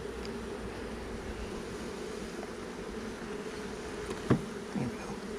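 Honey bees buzzing around an opened hive during a routine check, a steady close hum throughout with a couple of brief louder passes near the end.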